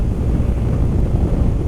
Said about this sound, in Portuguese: O Ushuaia é ventania,